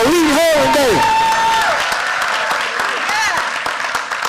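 A school audience breaks into applause and cheering for Malik Herring, loud clapping and shouts filling the room while an amplified voice speaks over the start before the crowd noise carries on.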